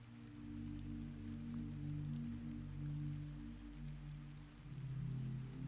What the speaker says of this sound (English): The sound of the rain becomes your lullaby once more